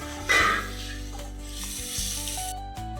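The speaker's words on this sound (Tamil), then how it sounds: "முட்டையை அதில் போட்டு நல்லா ஃப்ரை பண்ணிக்கலாம்." Eggs frying in a pan with turmeric, chili powder and salt for egg masala, a steady close sizzle with a louder burst early on and scraping stirring throughout, no voices.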